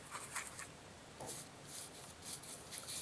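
Bristles of a paintbrush sweep across a painted sky in a run of soft, short, dry strokes, close and faint, repeating in an uneven rhythm with no voices.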